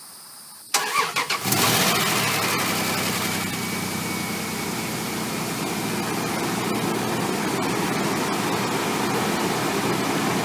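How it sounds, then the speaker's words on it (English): A car engine cranks and catches after a quiet moment, then settles into a steady, close idle warming the oil before an oil change, running alone without voices. "start our vehicle and let it run for a few minutes to heat up the oil"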